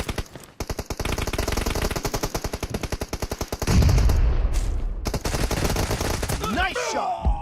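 Rapid automatic gunfire in PUBG Mobile, a loud sustained burst of dense shots for several seconds, followed by a heavier blast and further overlapping fire and impact noise.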